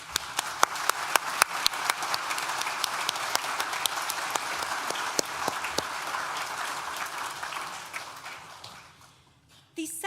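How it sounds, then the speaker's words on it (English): A graduation-ceremony audience at Nottingham Trent University's School of Science and Technology gives a sustained round of applause, dense massed clapping with sharp individual claps standing out, fading away near the end before a brief return. "Please join me in thanking them for a well-deserved round of applause."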